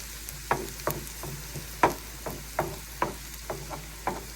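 Onions fry in a pan with a faint, steady sizzle, broken by about ten soft scraping taps as they are stirred at a gentle, regular pace.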